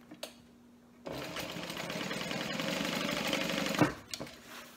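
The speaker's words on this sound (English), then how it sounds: "I'm going to sew a line in the center" A sewing machine stitches a straight line down the center of a small handmade piece, running steadily for about three seconds after a brief quiet pause, then stopping with a few faint clicks.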